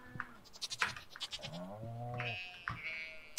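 Sheep bleat in Stardew Valley, several short quiet baas in a row, near and clear, with some light scratchy clicks and no talking.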